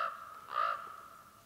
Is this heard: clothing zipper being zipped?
no